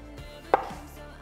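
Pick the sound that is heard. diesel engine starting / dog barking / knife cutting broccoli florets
knife cutting broccoli florets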